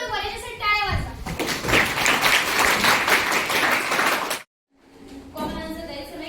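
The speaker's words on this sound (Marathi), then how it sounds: "यासाठी टाळ्या वाजवा." Applause from a classroom of children during a school self-governance day, a dense burst of clapping lasting several seconds, then a brief silence before a voice speaks.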